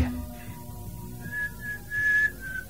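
A woman's melodic whistle rises and falls in a clear tone, sustained for a couple of seconds over a low background rumble.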